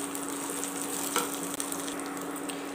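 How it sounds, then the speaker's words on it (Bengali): Coconut sizzles as it is stirred in a hot pan for dosa chutney, a steady close frying hiss with a brief scrape of the spoon partway through and no talk. "নারকেলটাকে খুব ভালো করে নাড়াচাড়া করে নেব"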